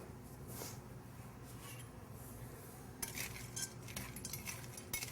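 Chocolate chunks tossed with a little flour in a bowl give soft scraping and rustling, then sharper clinks of a utensil against the bowl, quiet and close with no talking.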